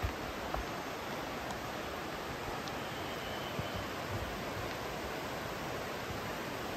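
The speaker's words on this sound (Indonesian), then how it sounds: "di sini ada sungai. Suka banget sama suara air." A river flows along a hiking trail near Greenwater Lake, a steady, even rush of water that fills the clip with no breaks, no voices and no other sounds.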